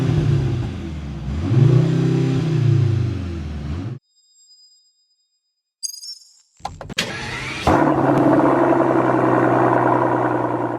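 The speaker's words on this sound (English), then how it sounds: "That's what I want to hear. I want to hear an engine. This is C63." A 2023 Mercedes-AMG C63 S E Performance engine revs loudly twice, a gap of near silence with a few clicks follows, then the engine settles into a strong steady idle-rev.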